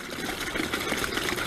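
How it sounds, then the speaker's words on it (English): A garden water feature splashes steadily into a plastic liner and onto rocks behind it, a close, continuous, busy patter with no pauses and no voices. "The water is splashing into the plastic liner, and it's also going to the rocks behind it."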